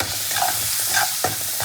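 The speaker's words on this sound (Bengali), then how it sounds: "তো হলুদ দিয়ে নাড়াচাড়া করে" Fish curry with turmeric stirred in a frying pan, a steady close sizzle broken by a few soft spoon scrapes, with no voices.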